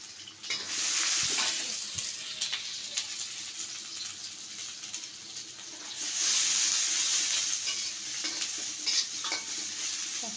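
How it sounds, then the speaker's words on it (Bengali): Chopped onion and green chillies hit a very hot wok with a loud close sizzle, stirred with repeated scrapes, the hiss surging again partway through; no talking. "কড়াই অনেক গরম হয়ে গেছে। দিয়ে দেব পেঁয়াজ কুচি, কাঁচামরিচ।"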